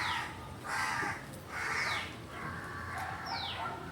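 Several harsh bird calls ring out in bursts with short gaps, fairly close against a steady background hiss; caws from crows.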